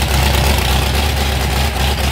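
A 550 hp custom car engine idles loudly and steadily up close, with a deep, even rumble and no break or change in rhythm.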